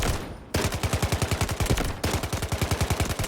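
An MK47 rifle fires in the video game Delta Force, loud rapid automatic bursts of evenly spaced shots, with a brief pause between two long strings of fire.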